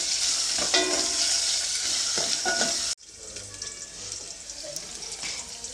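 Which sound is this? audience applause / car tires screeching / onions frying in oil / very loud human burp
onions frying in oil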